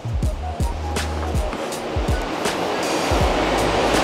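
A three-tier hydroponic kit's pump fills the system with water, a continuous rushing, gurgling flow with low wobbling tones from the pump, close and fairly loud throughout.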